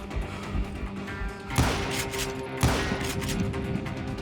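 Gunfire in the Western shooter game Call of Juarez Gunslinger, set in a ghost town: two sharp shots about a second apart ring out over a steady bed of game ambience, with no talk.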